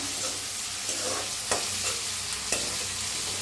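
Cut tomato sizzles in oil in a pan for a brinjal curry, with a few distinct scrapes and taps of a spatula as it is stirred, close up and steady.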